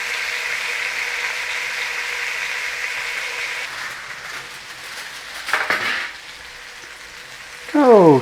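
Beef medallions sear in a hot pan as a steady, close frying sizzle that dips in level partway through, with a brief louder burst near the end.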